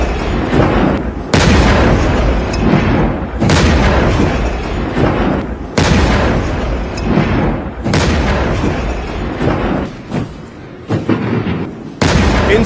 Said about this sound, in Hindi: तोपों की सलामी हुई।